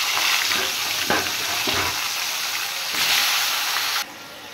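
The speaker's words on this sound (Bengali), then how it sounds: "ফুলকপি ভেজে নেব।" Cauliflower pieces fry in hot oil in a home kitchen, a loud continuous sizzle and hiss with occasional stirring scrapes close by, easing off near the end.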